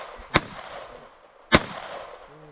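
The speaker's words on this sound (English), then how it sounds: "Just rapid fire. Do it. Rapid fire. Hit the handgun 3 times." Two sharp handgun shots about a second apart ring out loud and close, each with a brief echo tail, and no one speaks.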